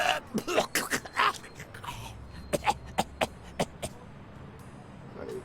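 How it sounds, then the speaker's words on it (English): A character in the Blacksad: Under The Skin video game coughs and clears the throat in a rough series of bursts, several clustered early and another run of sharp hacks later, close and fairly loud with no talk over them. "You've got one nasty cough."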